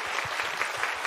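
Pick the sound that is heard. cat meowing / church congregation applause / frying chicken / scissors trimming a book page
church congregation applause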